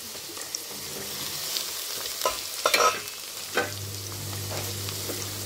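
Green peas are stirred into a frying pan, giving a soft steady sizzle broken by a few distinct scraping and clinking stirs near the middle, close and fairly quiet with no voices.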